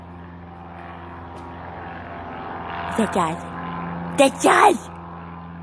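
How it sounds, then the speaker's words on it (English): A Cessna propeller airplane drones steadily overhead, a low continuous engine hum, while excited voices call out and shout above it. "I hear a Cessna, but I don't know where."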